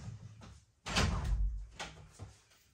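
A back door is swung shut in a house, a loud thud followed by a couple of softer knocks and rattles, with slight echo in the room.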